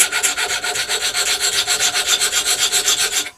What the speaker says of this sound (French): Je prends la lime plate.